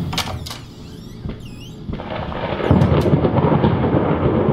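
Thunder rumbles through a stormy scene in the horror video game Layers of Fear, with soft crackles early on, then a deep, sustained roll swelling louder in the second half, no voices.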